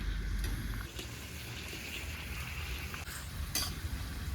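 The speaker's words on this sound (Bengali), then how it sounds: "পেঁয়াজটা আমার দেখুন লাল লাল ভাজা হয়ে গেছে, গোল্ডেন ব্রাউন হয়ে গেছে" Onions fry to golden brown for a rustic village-style chicken curry cooked over a wood fire, giving a continuous close sizzle broken by a few scraping stirs of the spatula.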